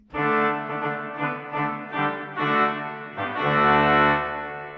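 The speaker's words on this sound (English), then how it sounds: "which is the Tubamirabilis, which is a really strong reed" A powerful, brassy Tuba Mirabilis reed stop on a Rieger pipe organ in Vienna plays a sequence of sustained chords, loud and bright, with a deep pedal note entering near the end.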